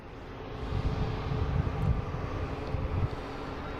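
A Delta Airbus A330-900 airliner bound for Paris at Boston Logan airport gives off a faint, steady distant jet roar with low rumbling swells and no voices.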